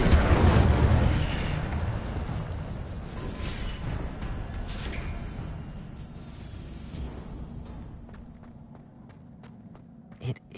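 A fire spell cast in Hogwarts Legacy erupts as a loud, roaring burst of flame that sustains as a rushing, crackling wash for several seconds, then fades and ends with a small pop.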